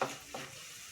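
Curry leaves fry in hot oil, a soft steady sizzle with a brief louder crackle at the start and another short burst partway through, fairly quiet and without voices.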